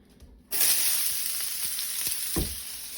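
A whole onion hits a hot pan and bursts into a loud, close, steady sizzle after a brief quiet start, with a few faint stirring knocks and no voices.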